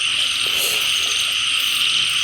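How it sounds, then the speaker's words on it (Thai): Small paddy frogs croak at night in a dense, unbroken chorus, a loud high trilling drone that fills the whole stretch with no talk. "แม่เขียดจับคู่ครับไอเรานึกว่ากบ"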